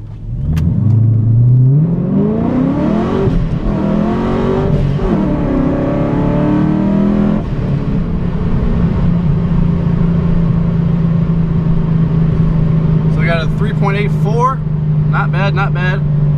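A procharged 5.7-liter Dodge Challenger R/T launches hard from a standstill with traction control off, its engine climbing loudly through rising revs and gear shifts, then settling to a steady drone before sharp blow-off valve chirps and whooshes.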